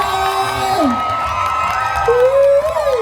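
Crowd cheering and whooping at a folk ramwong dance contest during a village merit festival, loud and continuous with rising shouts and a voice calling out over the din.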